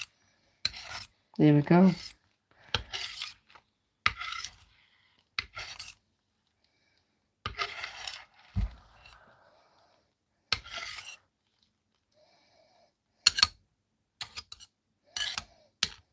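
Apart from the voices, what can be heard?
scraping dried acrylic paint on a coaster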